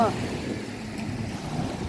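Strong wind gusts steadily across an open seaside beach, a dense continuous rush of noise with a brief faint voice at the very start.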